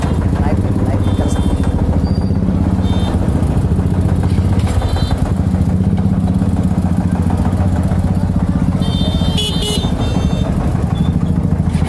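Motorbikes on a road rumble continuously with a loud, close engine drone and clattering, while people talk over the traffic noise.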